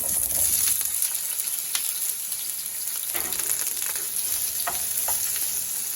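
Rabbit pieces frying in oil in a pan, a steady loud sizzle with occasional scraping and stirring clicks as the meat is tossed, close and continuous without talk.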